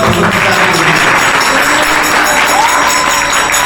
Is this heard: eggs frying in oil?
no